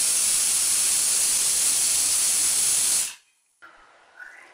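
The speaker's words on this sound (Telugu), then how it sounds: "మూత పెట్టి 4 లేదా 5 విజిల్స్ వచ్చే వరకు ఉంచుకోవాలి" Loud, steady steam hisses forcefully from a pressure cooker whistle for about three seconds while cooking ridge gourd dal, then cuts off abruptly, leaving near silence and a faint trailing sound.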